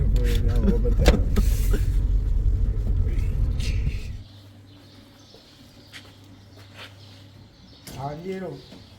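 A car engine runs loudly under people talking, then drops to a quieter steady idling hum before a brief burst of sound near the end.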